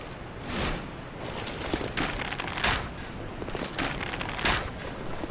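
Statues in the video game Dark Souls 2 shoot arrows in a steady volley of sharp, repeated bursts, roughly a shot or two every second, over a dense rattling background.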